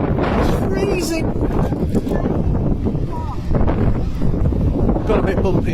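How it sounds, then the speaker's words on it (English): Cold wind buffets the microphone outdoors in Liverpool, a steady rough roar that lasts throughout with brief gusty swells, heard alone without speech. "It's windy, it's freezing."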